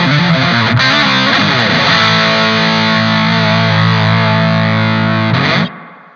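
Electric guitar played through a Laney Loudpedal on its bright setting, a loud, continuous distorted tone with sustained chords ringing for several seconds before cutting off abruptly.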